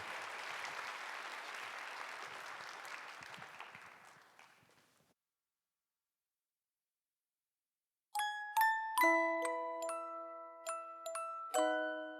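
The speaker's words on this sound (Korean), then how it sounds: "우리 새 선교사님을 정말 축복하면서 박수로 격려하도록 하겠습니다." Church congregation at a youth worship service applauds a new missionary with steady, dense clapping that fades out after about five seconds; silence follows, then bright chiming tones ring out.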